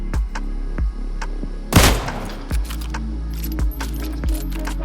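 Bolt-action Mosin and Kar98k rifles reloading in the video game PUBG: a series of sharp metallic clicks and clacks spaced through the reload, with one louder bolt or shot burst near the middle, close and clean with no talk.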